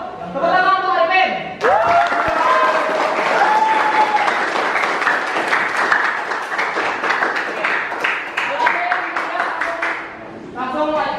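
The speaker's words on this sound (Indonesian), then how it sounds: "Tepuk tangan Pak Arifin." Classroom applause for Pak Arifin during an Islamic studies teacher-training lesson, a burst of many hands clapping that swells and holds, with a teacher's voice speaking before and after and briefly over it.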